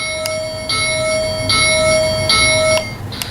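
Lionel LionChief Polar Express 1225 model train bell dinging in a series of repeated, evenly spaced metallic strikes, steady and fairly loud over a faint background hum.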